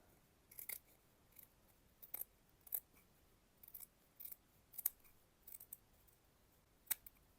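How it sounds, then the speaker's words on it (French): Scissors snip through an old sleeve seam in fabric, giving a string of quiet, crisp, irregular cuts spaced a fraction of a second apart against near silence. "Là, je coupe l'ancienne couture."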